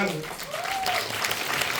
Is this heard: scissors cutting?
no